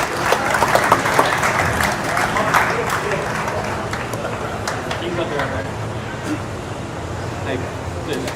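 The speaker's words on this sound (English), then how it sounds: "Round of applause for Monty Sewell." A crowd at a bass fishing tournament on Lake Fork claps in a steady round of applause, moderately loud and close, while someone talks over it on a microphone.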